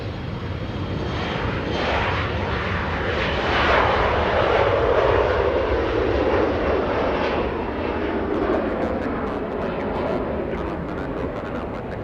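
A SkyWest jet departs Los Angeles International Airport bound for Albuquerque, its engines a loud, steady roar that swells in the middle and slowly fades as it climbs away.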